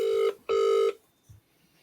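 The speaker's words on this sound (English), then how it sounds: "we're going to get Graham on the phone" A telephone rings twice in short electronic bursts as a call is placed for a live online interview, loud and close, followed by a soft click and then quiet.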